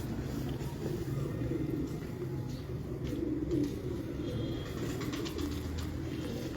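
Pigeons coo softly in a quiet outdoor setting, their low murmuring calls repeating steadily at moderate distance amid faint background noise.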